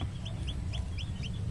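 A hen clucks in a short series of soft, evenly spaced calls over a low background rumble.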